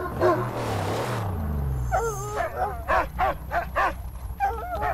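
A dog barks repeatedly in short, fairly close yips and barks over the last three seconds, after a stretch of low rumbling background noise.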